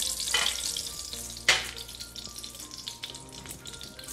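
Garlic frying in sesame oil in a pan, a steady close sizzle with a couple of sharp spatters and faint stirring, no talk over it.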